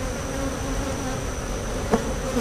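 Steady, close buzzing of honey bees inside a hive fills the clip continuously, a dense droning hum with no voices.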